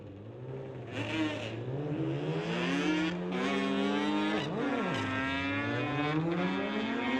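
A drag-racing motorcycle launches at a bike drag race on a timed strip, its engine screaming with rising and falling harmonic pitch as it shifts through gears, loud and continuous for about seven seconds.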